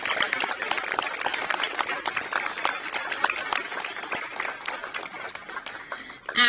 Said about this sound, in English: one more round of applause for our future generation.